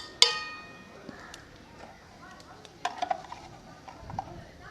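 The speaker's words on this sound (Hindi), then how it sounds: "मसाले को मिक्स कर लेंगे।" A spoon stirs spices through goat head cooking in a pot, giving quiet scraping and a few sharp metallic clinks against the pan over a faint sizzle.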